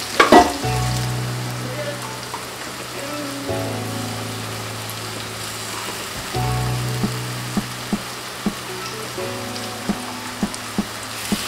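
Onion sautéing in a pan with ground ginger, garlic and green chilli paste for chicken biryani, a steady close sizzle with stirring scrapes and a few sharp clicks of the spoon.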